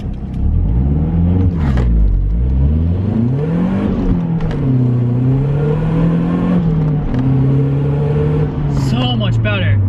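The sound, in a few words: car launch acceleration with new rear motor mount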